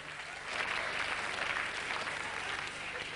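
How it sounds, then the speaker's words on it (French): A theatre audience claps in steady, dense applause at a comedy show, sustained at an even level for a few seconds. "Vous applaudissez de ces conneries, quoi."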